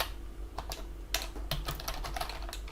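Keys clatter on a computer keyboard in quick, irregular bursts of soft clicks with short pauses between, close and fairly quiet over a steady low hum.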